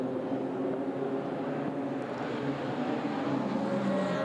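Radical race cars at Spa-Francorchamps during a 2015 Radical Enduro and Sprint race roar in a continuous, loud engine drone that holds steady from start to finish, with no voices.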